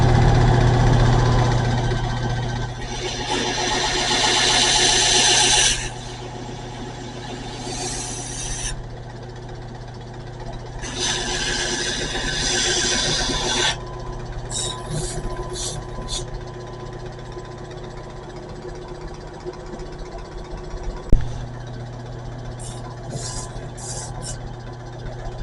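An old shop box grinder runs a Scotch-Brite belt against a knife blade to give it a brushed finish, making a steady motor hum with bursts of harsh abrasive hiss that come and go, plus a sharp knock near the end.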